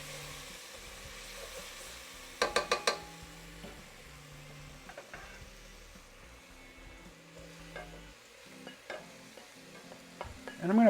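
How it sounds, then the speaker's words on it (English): Onions and beef are stirred in olive oil in a pan, giving a low sizzle under repeated spoon scrapes and clatters, with a sharp burst of knocks early on and another near the end, and no talking. "Stir up our onions."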